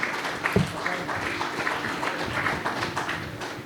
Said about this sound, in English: Please keep applauding everyone